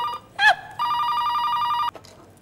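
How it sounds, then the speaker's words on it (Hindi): Telephone ringing indoors in a family home: a brief chirping blip, then one steady, loud electronic ring tone lasting about a second before it cuts off. "किसका फोन आ गया?"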